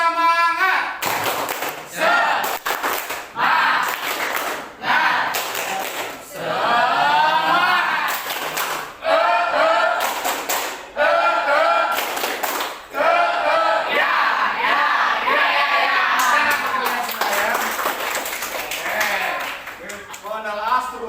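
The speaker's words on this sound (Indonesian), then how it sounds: "Kita coba tepuk semangat." A classroom of students claps a rhythmic spirit cheer in bursts of sharp, patterned claps mixed with chanted shouts, loud and close, with a teacher's voice leading between the rounds.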